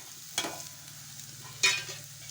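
Ridge gourd curry being stirred in a frying pan on a gas stove, with two distinct scraping stirs over a faint steady sizzle, close and moderately quiet.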